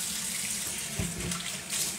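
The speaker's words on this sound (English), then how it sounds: "I just put warm water in mine" Warm tap water runs steadily into a sink while muddy eggs are washed with a little dish soap, a close, continuous splashing stream with a brief thump partway through.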